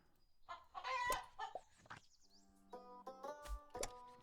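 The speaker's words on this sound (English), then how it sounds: "we can throw our water chickens right on the field" Water chickens in the card game Terracards cluck and crow in a short burst of bird calls, followed by chiming game tones.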